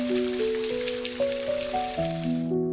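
Steady rain patters in a soft, even hiss beneath sustained background music notes, with no voices, cutting off abruptly at the end.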